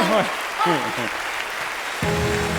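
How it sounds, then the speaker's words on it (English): At the Breakthrough Prize Ceremony, an audience claps for Laura after a magic performance, with a brief spoken voice at the start and a sustained tone entering partway through over the crowd's applause. "Ladies and gentlemen, big round of applause for Laura."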